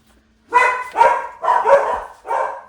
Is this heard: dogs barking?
yes